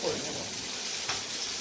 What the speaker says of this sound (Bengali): একটু হালকা ভাজছি